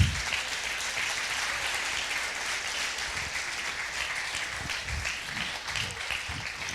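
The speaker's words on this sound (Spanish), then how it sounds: "Dele otro fuerte aplauso a Dios." A church congregation applauds during a Spanish-language sermon, a steady wash of clapping from a sizeable crowd heard at moderate distance, continuing evenly throughout.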